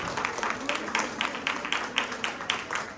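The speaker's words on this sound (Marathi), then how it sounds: "जरा जोरात टाळ्या सगळ्यांसाठी झाल्या पाहिजे." An audience applauding the three winners at a lively women's game-show event, with a brief, fairly faint patter of clapping that has a rhythmic pulse.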